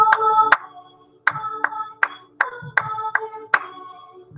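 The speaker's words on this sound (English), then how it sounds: "Or clap the rhythm, rather." Hands clapping the rhythm of the children's song Rain, Rain while it is sung, sharp close claps in an uneven pattern under a singing voice carrying a tune.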